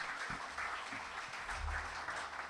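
Audience applause greets poet Ali Zariyoon at a mushaira, a full, even burst of clapping from a seated crowd with a few low thumps mixed in.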